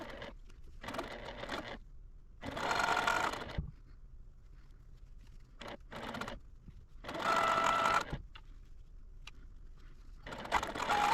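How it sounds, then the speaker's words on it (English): A sewing machine stitches quilt block pieces in several short runs, each a steady mechanical whir lasting a second or so, separated by quiet pauses with small handling clicks. "I'm going to take these back over to the sewing machine, and we're going to sew these"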